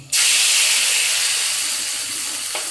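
Dried red chillies and nigella seeds hitting hot oil, a sudden loud, steady hissing sizzle that starts abruptly and stays strong, heard close and alone.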